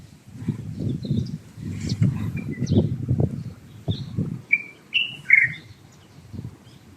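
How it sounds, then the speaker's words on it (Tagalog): Small birds chirp in brief, separate calls on a sunny, clear day, the high tweets standing out over lower background murmur and nearby voices talking. "Dinig pa rin yung huni ng mga ibon."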